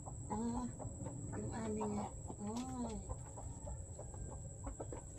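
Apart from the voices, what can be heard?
chickens clucking, a hen and a rooster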